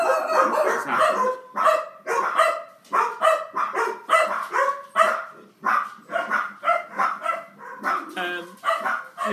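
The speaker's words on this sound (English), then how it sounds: "This one is being fanfared by the dogs" Several dogs bark in a dense, repeated series of loud, close barks, some with yipping tones, continuing throughout with almost no pause.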